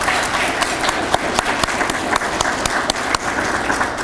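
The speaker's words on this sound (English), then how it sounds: "Let's give him a round of applause." A room full of people applauding steadily, dense clapping that holds at an even level throughout.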